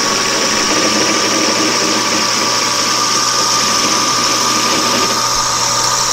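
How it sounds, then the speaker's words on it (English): Metal lathe cutting scale off the outside of a tailstock part in a smithy: a steady, loud mechanical whir and hum with a continuous cutting hiss, unbroken and close throughout. "we're cutting the scale off the outside."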